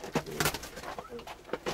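Syrian pigeons in a coop give soft, low cooing calls, a few throaty coos close by amid scuffling and faint background murmur.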